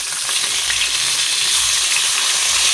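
Pieces of rohu fish fry in hot oil in a pan, producing a continuous, even, hissing sizzle with light crackle that stays steady throughout, with no talking.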